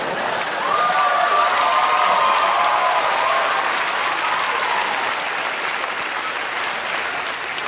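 Audience at a school commencement ceremony applauding in a dense, steady wash of clapping that slowly fades slightly toward the end.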